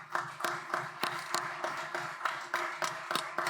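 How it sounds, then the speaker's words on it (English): Sparse audience clapping at a digital transformation forum, a handful of distinct hand claps spaced irregularly in a quiet room rather than a full ovation. "Give all of them a big round of applause."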